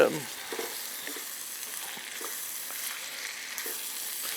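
Peppers and onions sizzle steadily in a hot pan while a spoon stirs them, a constant close frying hiss broken by light scraping strokes and no voices.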